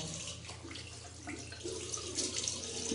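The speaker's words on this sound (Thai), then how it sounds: "ล้างด้วยน้ำเปล่าก็พอแล้วนะคะ" Plain water runs from a tap and splashes as a face is rinsed, a soft continuous wash of water that is faint and steady, with no talk.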